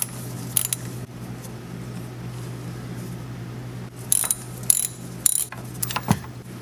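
Short ratchet bursts with a 13mm socket loosening bolts under a Chevy Astro van during transmission service, close and crisp, separated by pauses over a steady low background hum, with no talking.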